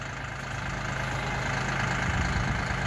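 A tractor engine runs at a steady idle-like drone while working against a bush, a continuous low mechanical rumble with no talk over it.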